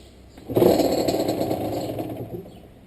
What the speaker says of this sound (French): Et après vous avez tout simplement donc plus qu'à démarrer votre moto.